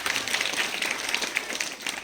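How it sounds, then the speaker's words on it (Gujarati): Brief burst of applause for a children's dance performance at a Republic Day school event, a steady patter of many hands clapping throughout. "જોરદાર તાળીઓના ગણગણાટથી વધાવી"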